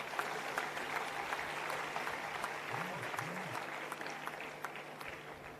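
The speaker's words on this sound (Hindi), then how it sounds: "इस बात पे सबको तालियां बजानी चाहिए।" A steady wash of crowd applause, many hands clapping together at an even level throughout, heard from within a large audience at a Herb Day event addressed by Uttarakhand Chief Minister Dhami.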